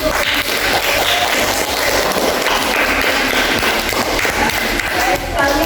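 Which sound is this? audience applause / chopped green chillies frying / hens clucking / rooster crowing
audience applause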